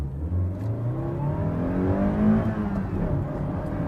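A first-generation Toyota MR2 accelerates hard from 0 to 60, its engine climbing in pitch through the gears with a whirring, rising rasp. It is heard up close and alone, and the revs peak before dropping at a shift.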